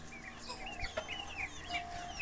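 Chickens cluck and chatter softly nearby, several birds at once, with a low steady hum underneath.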